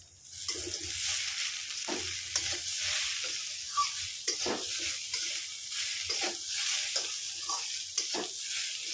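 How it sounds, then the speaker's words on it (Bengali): Onions sizzle and crackle in a hot pan, with intermittent scraping and stirring strokes over a steady frying hiss. "পেঁয়াজ তো ভাজা হচ্ছে"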